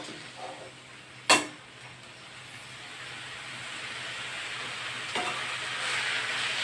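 Tender drumstick leaves sautéing in a pan make a soft steady hiss that slowly swells louder, broken early by one sharp clank of a utensil against the pan, with no talking.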